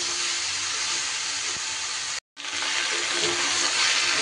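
Vegetables with greens frying in a pan: a steady, loud broadband sizzle and hiss runs throughout, broken by one brief silent gap near the middle, with faint clinks of stirring.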